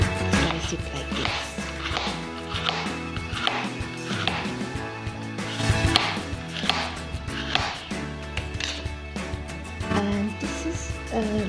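A knife slices bitter gourd into strips on a board in a kitchen, a steady series of soft knocks roughly every second, partly buried under loud background music.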